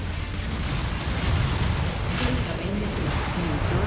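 Weapons fire and missile impacts in the mech combat video game MechWarrior 5: Mercenaries make a continuous dense roar of rumbling blasts and crackle, steady and loud over nearly four seconds.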